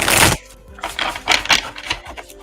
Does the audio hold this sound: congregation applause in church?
no